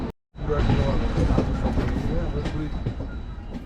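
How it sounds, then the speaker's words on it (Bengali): A Jammu Tawi Express train pulls into Jammu Tawi station, a loud, steady rumble of rolling wheels and carriages that begins abruptly after a brief silence, with a faint steady whine and a voice speaking over it. "ট্রেনটা ঢুকছে এখন"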